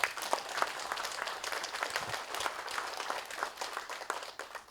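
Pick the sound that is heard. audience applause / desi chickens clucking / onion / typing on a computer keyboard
audience applause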